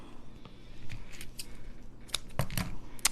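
Scissors snip craft material for a faux mini apple pie, a few sharp, close cuts spread across a quiet moment with no talking.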